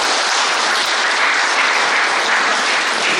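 Loud, dense audience applause at a ring presentation ceremony, a steady wall of clapping that holds for the whole stretch without pause.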